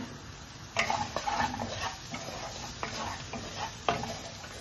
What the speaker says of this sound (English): we're going to cook the remainder of the onion we didn't use in our meatballs